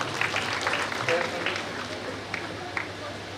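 Applause at a community award ceremony welcomes a student speaker, scattered claps with sharp individual hits mixed under nearby talking voices.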